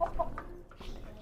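Chickens in a backyard pet enclosure shared with doves cluck softly in a brief, faint burst of a few short calls over low background noise.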